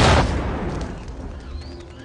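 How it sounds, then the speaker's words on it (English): A trip-wire explosion at a jungle camp in a TV drama, one loud close boom at the start that decays into a rumbling tail of debris. "Jack hits a trip wire, setting off an explosion of Rousseau's camp"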